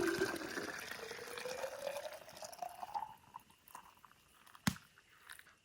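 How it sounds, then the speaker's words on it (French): Boiled water poured from a pot into a chili mix at a canoe-camping site, a steady liquid fill rising in pitch over about three seconds, then quieter handling and a sharp knock near the end. "Donc, on va verser ça là-dedans."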